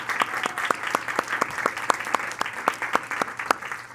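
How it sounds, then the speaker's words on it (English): Steady rhythmic clapping from an audience on its feet at a public schools event, even and moderately loud, with no voices over it. "let's give you all a big round of applause"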